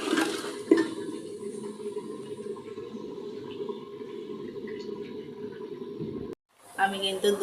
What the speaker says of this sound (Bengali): আমি এখন ধুয়ে নিয়ে আসবো পরিষ্কার করে পানি দিয়ে।